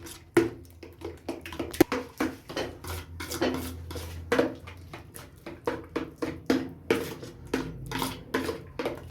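Metal utensil scraping and clinking against a bowl while salt and spices are mixed together for bhajia, with a steady run of close, rhythmic taps and clatters.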